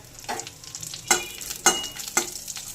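Cumin seeds, dried red chillies and bay leaves sizzle in a little mustard oil for a vegetable dal, a steady crackle broken by three sharp bursts as spices stir in the hot pan, close and alone.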